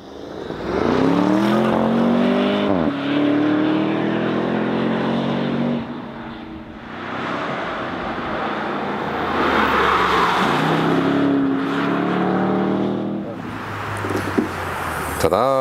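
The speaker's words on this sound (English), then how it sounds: "the sound is also the very same as with the normal V8" A powerful Porsche Panamera Turbo S E-Hybrid 4-liter V8 revs and accelerates in rising pitch sweeps on a racetrack, easing off between pulls, loud and close throughout.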